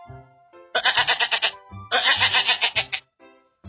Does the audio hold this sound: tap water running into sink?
no